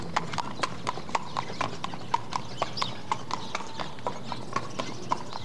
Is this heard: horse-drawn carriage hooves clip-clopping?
yes